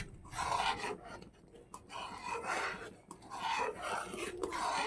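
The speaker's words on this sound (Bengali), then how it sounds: "চালগুলো সিদ্ধ না হওয়া পর্যন্ত কন্টিনিউ নাড়তে হবে" A spoon or ladle scrapes and rubs through Gobindo bhog rice with ghee in a cooking pot, producing continuous rhythmic rasping strokes, faint and close, with no voices.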